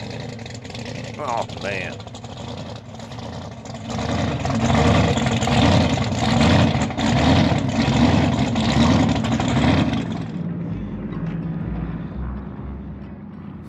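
Hot rod engine idling roughly and revving at a stop near Highway 95 Speedway in Lake Havasu, a loud, lumpy rumble that swells for several seconds then settles, with someone talking briefly.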